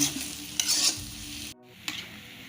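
Eggs stir-fried in a pan with Thai fermented pork and fish sauce, a steady close sizzle and frying hiss broken by bursts of scraping stirring, a brief dip in the middle, then sizzling again.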